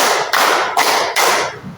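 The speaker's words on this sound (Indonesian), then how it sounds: "Tepuk 1, tepuk 2, tepuk 3" A group of schoolchildren at SDN Karangduren 1 claps in counted unison, three sharp, evenly spaced bursts of many hands, close and clear.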